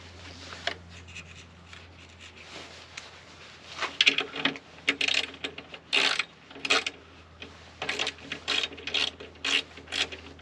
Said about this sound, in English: I'm going to use 10 mm socket and remove the interior bolts